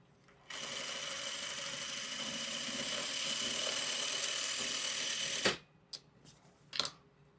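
A sewing machine stitching fabric in one continuous loud whirring run of about five seconds, then stopping, followed by a few short clicks and handling sounds.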